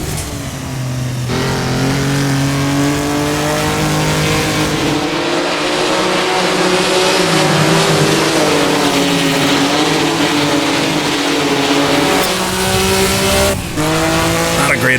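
A Maserati 250F racing engine revs hard and accelerates through the gears in a sim racing game on the Nürburgring, loud and continuous, with a brief gear-change dip and a rising engine pitch.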